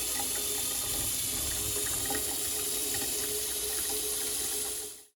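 Water runs steadily from a kitchen sink faucet just after its sprayer was repaired with a new rubber washer, a constant close rushing flow that cuts off at the very end.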